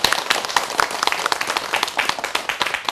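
Audience applause at a lecture on managing oneself through laughter, a dense patter of many hands clapping steadily for a few seconds, fairly loud and without speech over it.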